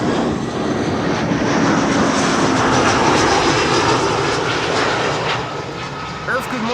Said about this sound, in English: Atlas Air, arriving from Miami, Florida.